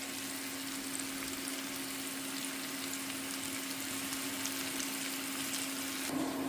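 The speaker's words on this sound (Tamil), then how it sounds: "இந்த உருளைக்கிழங்கு அதில் போட்டு ஃப்ரை பண்ணி" Potatoes frying in a pan at home, a steady low-level sizzle with a constant faint hum, unbroken for several seconds, ending with a brief louder stir or shift.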